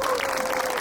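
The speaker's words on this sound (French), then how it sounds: "Un homme comme ça se motive, il faut l'applaudir." A brief burst of audience applause at a university gathering: dense, steady clapping from a crowd, moderately loud with no pauses.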